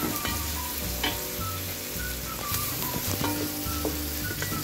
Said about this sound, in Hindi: अब मैं इसमें लहसुन और अदरक का पेस्ट ये शामिल कर दूंगी और अब इनको फ्राई कर लूंगी अच्छी तरह